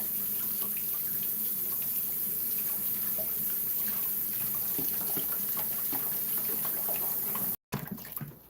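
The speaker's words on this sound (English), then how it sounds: "Let's rinse this off." Strawberry being rinsed under a running kitchen tap, a steady close rush of water splashing into the sink that cuts off abruptly near the end, followed by a brief quieter moment.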